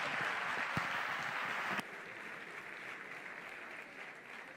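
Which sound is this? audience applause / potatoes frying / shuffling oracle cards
audience applause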